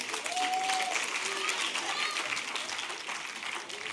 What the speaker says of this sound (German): Also jetzt erstmal verhaltener Jubel.